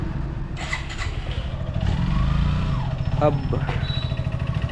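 A motorcycle engine runs and revs up close while the bike is parked, its rumble swelling and easing beneath a person talking.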